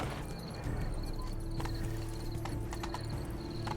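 Horse hooves clip-clopping in a video game, a steady rhythmic galloping patter over a continuous game soundtrack hum, with no voices.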